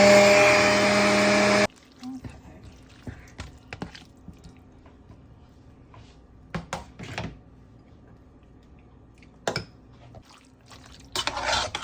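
A juicer grinds pork shoulder for pasteles with a loud, steady motor whir for under two seconds, then stops, leaving scattered kitchen clinks and clatter.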